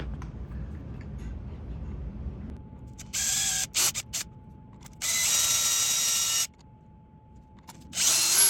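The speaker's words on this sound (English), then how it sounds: "making a little custom sanding disc that I can use to put a circular grind on the knife" A power drill spinning a small custom sanding disc grinds a knife handle in several short bursts, a high whining buzz starting and stopping against a quiet background hum.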